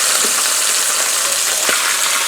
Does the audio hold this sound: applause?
no